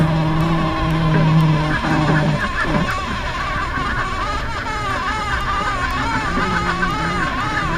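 A honeybee buzzes steadily inside the hive while performing a waggle dance, a close, continuous drone with shifting pitch that persists throughout.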